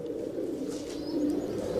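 Pigeons, star-type pigeons of a Punjabi fancier, coo softly and steadily at close range, a low continuous murmur with no talk over it.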